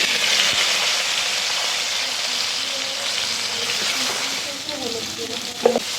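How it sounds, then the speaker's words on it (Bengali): Gathi kochu (taro) fries in hot oil with salt in a pan, giving an even, close sizzle throughout. A few spatula clicks and scrapes come near the end. "এটাকে আমি সুন্দর করে একটু ভেজে নিব।"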